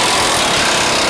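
A power tool fitted with a 21mm socket drives bolts on a vehicle's front drive shaft area, making a loud, dense, continuous rattling whir, close up.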